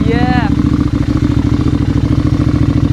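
A custom Royal Enfield Interceptor 650 tracker, bored out to 865cc, runs close by with a loud, lumpy, pulsing engine rumble throughout. A short vocal whoop sounds over it at the very start.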